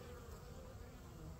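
Honeybees crowding the entrance of a hive under attack by robber bees, a dense steady buzzing that fills the whole moment at close range with no pauses.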